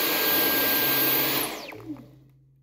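Dyson V11 cordless vacuum cleaner running in boost mode with a loud steady whine, then the motor spinning down with a falling pitch and fading to a low hum at the end.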